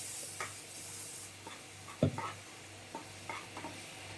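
A spoon scrapes and stirs mango pulp into semolina roasted in ghee, a run of soft strokes with one sharper knock against the pan midway, over a low steady hum, with no talking.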